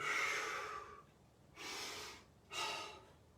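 Deep breaths during exercise: a long, close exhale followed by two more breathy inhale-exhale rushes, soft and unaccompanied.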